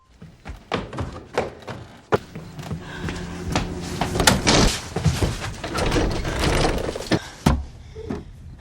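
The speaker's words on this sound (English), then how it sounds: "the demon Hastur prevents him from escaping when every door in the house locks itself" Doors in a house slamming and locking in a horror film scene, a series of sharp wooden thunks and bangs spread unevenly across the clip, with some louder impacts and a rumbling eerie score beneath.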